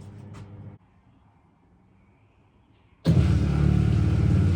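A washing machine pump on a boat galley runs during a test, a low, loud broadband rumble that cuts out abruptly, leaves near silence for a couple of seconds, then surges back on even louder.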